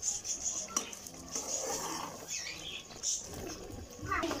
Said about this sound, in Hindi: तो अच्छे तरीके से हम लोग मिक्स करेंगे ताकि सारा मसाला अच्छे तरीके से मिक्स हो जाए।